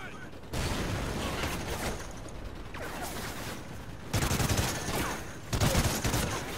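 Sustained automatic gunfire in a Call of Duty: Ghosts firefight, loud bursts of rapid shots rolling on and off with brief gaps, swelling in intensity near the end.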